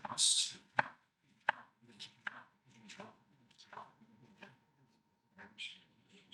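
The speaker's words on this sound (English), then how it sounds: "But I'll go ahead and chop the rest." Kitchen knife chopping a head of iceberg lettuce on a cutting board: a run of close, crisp chops at an uneven rhythm with short pauses, heard alone.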